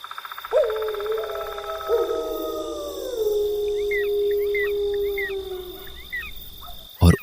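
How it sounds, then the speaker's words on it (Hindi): Long drawn-out howls of strange animals rise and waver, fading into the distance around a deserted station at night, with faint chirps in the background and a sharp knock at the end. "दूर दूर से आती अजीब अजीब जानवरों की आवाजें"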